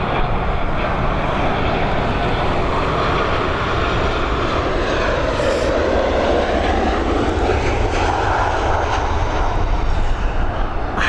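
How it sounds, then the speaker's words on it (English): Ryanair jet aircraft at Dublin Airport, a loud continuous engine roar with a broad whooshing rumble that swells and shifts slightly as the plane passes, no voices heard. "It was indeed a nice jet, Laura."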